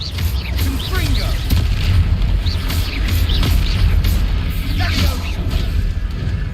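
Confringo fire spell explosions in the Hogwarts Legacy video game, repeated booming blasts and crashes over a dense, continuous battle din with character voices shouting throughout.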